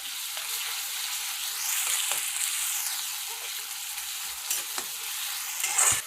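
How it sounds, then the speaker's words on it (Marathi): Ginger, garlic and coriander paste sizzles with softened onion in a hot pan as it is stirred for Schezwan fried rice, giving a steady close frying hiss with a few soft spoon scrapes and no talk. "आता यात थोडे अद्रक लसूण कोथिंबीरची पेस्ट टाका आणि ती ही व्यवस्थित मिक्स करून घ्या"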